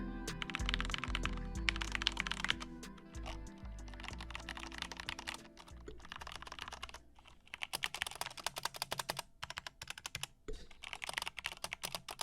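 Rapid typing on a mechanical keyboard with Cherry MX switches clatters up close in bursts of dense key clicks, with short pauses between runs and no one speaking.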